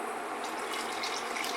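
Close up, about a litre of water pours steadily into a pan for French onion soup, a continuous splashing rush at moderate loudness with no talking.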